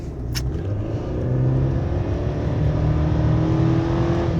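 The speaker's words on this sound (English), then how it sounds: "That's about half throttle. I didn't really fully kick it down. But it gets right up and goes." A 2021 Chevy Silverado pickup, a repairable salvage truck, revs its engine at half throttle, a steady loud mechanical drone rising slightly and holding close by with no talk.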